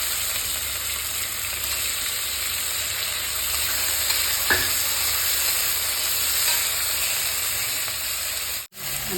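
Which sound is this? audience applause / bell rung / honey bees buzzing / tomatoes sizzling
tomatoes sizzling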